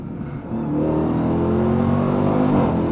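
Supercharged 2026 Dodge Durango Hellcat SUV engine accelerating hard, heard from inside the cabin: a loud, steady roar with rising pitch, building over the first second and then holding strong to the end.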